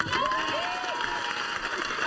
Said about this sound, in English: rousing round of applause for you back here